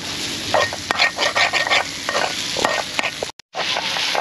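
Sea cucumber sizzles and fries in a hot pan at a Sri Lankan street food stall, a steady close crackle with repeated scraping stirs, briefly cut to silence near the end.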